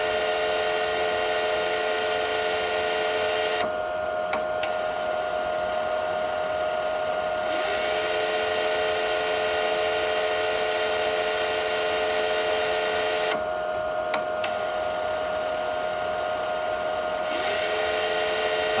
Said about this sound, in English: Just go up to max here, just to see that we have a different velocity, rotation speed on the motor.